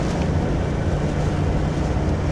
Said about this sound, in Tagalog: Kala ko naman, ulan lang na simpleng ulan. May kasama pa ng hangin.